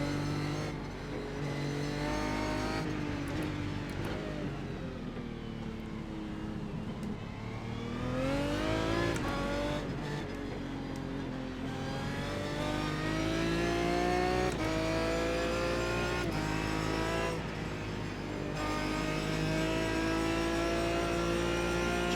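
A GT1 race car engine at full throttle in iRacing at Phillip Island, revving hard with rising pitch sweeps as it accelerates out of a turn and down the straight, loud and continuous with no talk.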